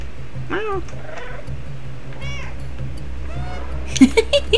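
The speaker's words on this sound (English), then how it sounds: "Meow." A cat in the video game Stray meows a few times in a high, wavering voice over a steady low background hum, followed by a few short sharp clicks near the end.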